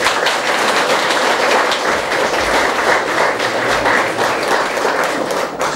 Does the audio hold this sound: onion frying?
no